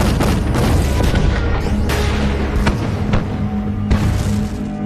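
Heavy booming blasts from matchlock guns and cannon in a Ming army versus Japanese pirate battle, several loud explosive hits with rumbling low-end decay between them.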